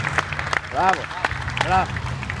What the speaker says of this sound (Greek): Ένα χειροκρότημα και στα δύο παιδιά